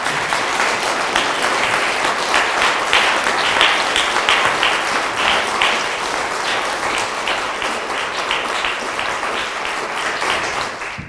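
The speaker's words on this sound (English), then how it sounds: "I think you can tell from that applause that we appreciate it very much" Audience applause after a professorial lecture at the University of Roehampton: a steady, crisp round of many hands clapping for about eleven seconds, slowly thinning toward the end.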